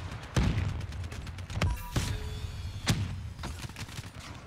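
Gunfire in the video game Black Ops 3 comes as several sharp, loud shots at irregular intervals, with bursts and thuds over a busy background of battle noise.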